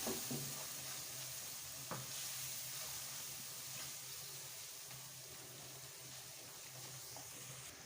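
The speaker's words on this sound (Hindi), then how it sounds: "मसाले को हम अच्छे से भून लेंगे।" Spices with salt, ground red chilli and turmeric sizzle softly in a pan for aloo baingan sabzi while being stirred, with a faint continuous fry and occasional light scrapes and clinks.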